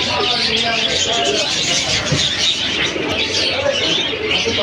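Lal Sirazi fancy pigeons housed in rows of nests at a bird and pet market coo and chirp, mixed into a dense, steady crowd hubbub with voices throughout.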